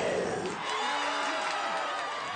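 An audience at a cartoon dog show cheers and whoops in a dense, bright crowd roar that holds steady for a couple of seconds, with a voice faintly audible beneath it.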